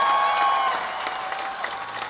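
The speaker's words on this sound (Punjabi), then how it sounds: "ਬਸ ਤਾੜੀ ਮਾਰ ਦੇ ਬਸ ਇੱਕ ਸਿੱਧੂ ਮੂਸੇ ਵਾਲੇ ਵਾਸਤੇ" A large crowd at Jaz Dhami's live show at Vibrant Brampton 2022 applauds in honour of Sidhu Moose Wala, a dense wash of clapping and cheering that stays loud and then eases slightly, with no speech over it.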